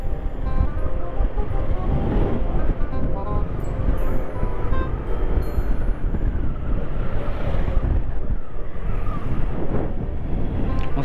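Steady seaside wind rushes and buffets the microphone along a coastal road in northern Luzon, a broad continuous roar with possible surf or engine rumble beneath and no clear speech.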